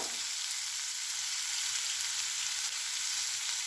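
Onions sautéing in a pan for a potato masala, a steady bright sizzle running unbroken and fairly loud throughout, with no voices over it.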